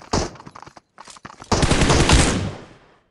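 Gunfire in the mobile battle royale game PUBG Mobile on the Livik map, a few short shots followed by a sustained loud burst of automatic fire that fades out, with no voices.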